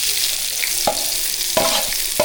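Loud, steady sizzling of chopped onions frying in a pan, with a few sharp scrapes of stirring cutting through.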